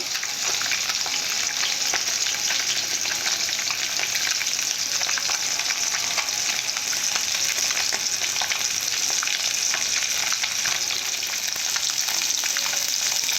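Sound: fish frying in oil

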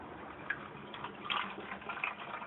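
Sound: distilled water being poured into PC liquid cooling reservoir

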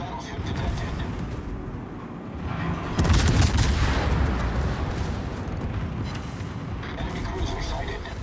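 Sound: Scharnhorst battleship guns firing in the video game World of Warships

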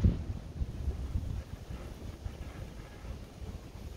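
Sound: strong wind

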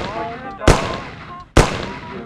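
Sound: gunfire in video game Mafia

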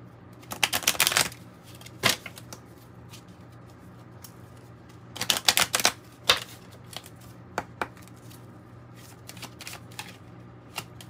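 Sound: shuffling Kipper oracle card deck

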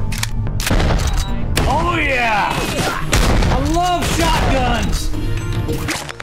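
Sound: shotgun fire in a video game

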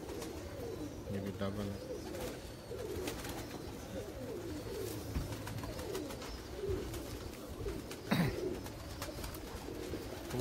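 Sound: pigeons cooing

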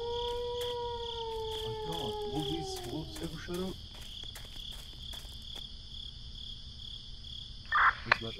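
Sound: howling from behind the house at night

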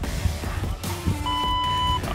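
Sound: interval timer app beeping

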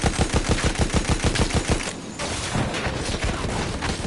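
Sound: gunfire from infantry in the video game Battlefield

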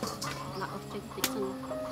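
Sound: chickens clucking

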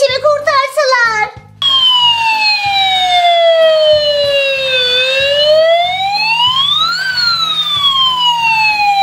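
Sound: fire truck siren arriving

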